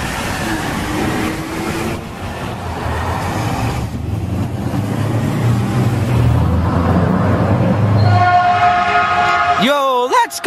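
Rumbling Caltrain train noise builds up close, then a loud multi-tone horn from an F40 locomotive blasts near the end, sliding in pitch as it sounds.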